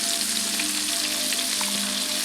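Fish fries in a mix of canola and olive oil, a loud, dense, unbroken sizzle close up with faint bubbling crackle, and no voices over it.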